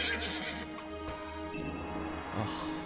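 Horse neighing in the Zeus: Master of Olympus city-building game at a horse ranch, a whinny rising over a steady game soundscape with faint clip-clop and ambient hum, no talking.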